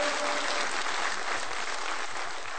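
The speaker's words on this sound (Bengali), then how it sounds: "তার জন্য ফ্যাবিয়া প্লেসের জন্য একটা বড় করে হাততালি হোক" Audience at a company success ceremony gives a big round of applause for Fabia Place, a dense, loud, continuous clapping that fills the space and tapers slightly at the end.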